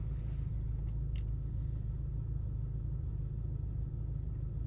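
A car engine idles after being restarted, a steady low rumble that stays close and constant throughout with no voices over it.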